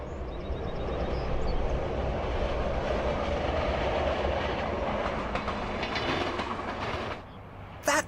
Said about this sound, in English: She's the special transit train.